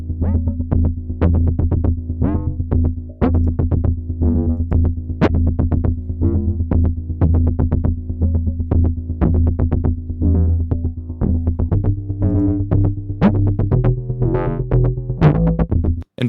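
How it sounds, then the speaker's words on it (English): Soft synth bass played through a rotary organ preset in a Coldfire amp sim, a steady rhythmic line of plucked low notes with swirling warm tone, running alone for about sixteen seconds. "I also use the rotary organ for this softer bass"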